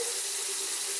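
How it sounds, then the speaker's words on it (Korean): Water runs steadily from a newly installed one-hole bathroom basin faucet, a close, continuous hissing stream. "물 나옵니다"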